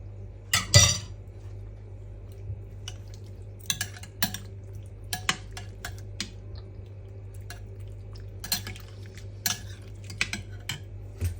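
Potato salad being mixed with a spoon in a bowl, giving soft irregular clinks and scrapes with a sharp metallic clatter near the start, close by, over a steady low hum.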